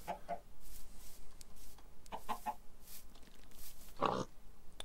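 Minecraft pigs and chickens make repeated near oinks and clucks against a steady game background, with several short grunts scattered through and a louder burst toward the end.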